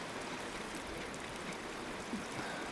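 A small mountain stream at a backcountry water source gives off a steady, close rushing babble with no pauses.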